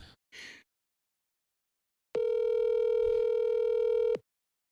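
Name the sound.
telephone ringing on a call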